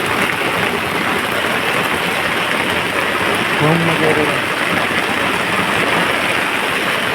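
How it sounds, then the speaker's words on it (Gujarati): Heavy monsoon rain falls steadily on a Gujarat farm village in a dense, unbroken hiss, with someone speaking briefly over it. "વરસાદ બહુ પડવા મળ્યો અમારા બધા."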